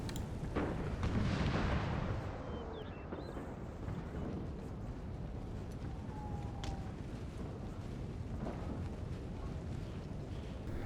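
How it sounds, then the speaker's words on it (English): Artillery fire in an American Civil War Total War battle at Seven Pines: a heavy booming opening followed by distant rumbling cannon reports over a steady battlefield din, with no talking. "Now the Zouaves are in range. It's artillery hell now."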